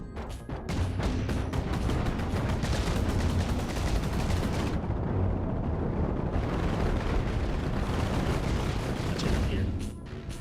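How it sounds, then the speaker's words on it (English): Disruptor weapon fire in the space-ship game Cosmoteer: a dense, continuous barrage of rapid blasts and rumbling impacts, loud and sustained, with a brief dip midway. "Get the disruptor still firing."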